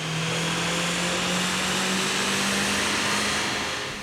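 A 2018 Ford Mustang EcoBoost with a six-speed, strapped to a dyno, makes a pull in fourth gear on 93 octane, a loud, sustained engine roar that climbs steadily in pitch throughout.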